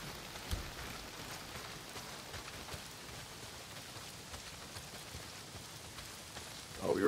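Steady heavy rain pours down in the Days Gone video game, an even, dense hiss with scattered droplet patter throughout, ending in a louder swell.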